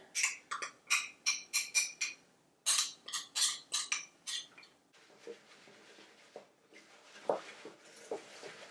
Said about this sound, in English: you're just kind of whisking in both of these together